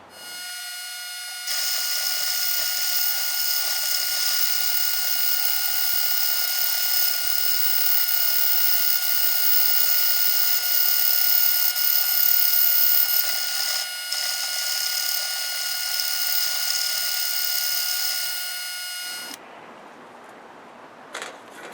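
A metal lathe takes a light cut with a brazed carbide tool, a steady close high-pitched machining whine with a faint ringing tone that runs for about twenty seconds and then stops abruptly.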